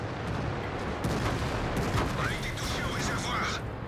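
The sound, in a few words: tanks firing cannons at an IS-4 in World of Tanks video game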